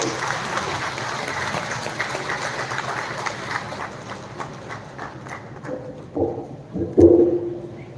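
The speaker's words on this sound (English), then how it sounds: "kindly stand up and give Sir a big round of applause to welcome him" A standing audience at a formal ceremony in Meghalaya claps to welcome a dignitary; steady applause that thins out and fades toward the end, leaving a few scattered claps.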